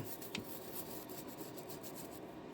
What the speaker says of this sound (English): I start with the bottoms and I brush them.